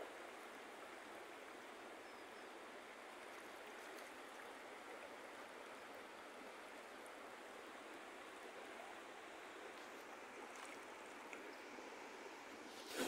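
Río Ostúa rising in flood, a steady broadband rush of flowing water heard continuously and fairly quietly, with no voices.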